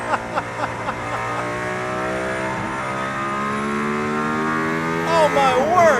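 A Mercedes-AMG ONE hypercar driven on the Barcelona race track, its engine a steady, loud high-revving drone that climbs in pitch, heard from inside the car.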